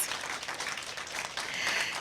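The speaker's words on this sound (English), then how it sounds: "Round of applause." Applause from the audience at an inter-secondary school debate after a team presentation, steady massed clapping that sounds distant and soft, continuous for a couple of seconds.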